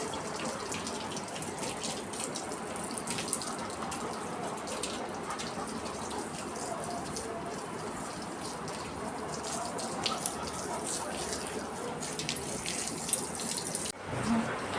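Tap water runs steadily while a small child is bathed with shampoo indoors, a continuous close splashing rush that lasts throughout with brief spatters near the end and no clear talk over it.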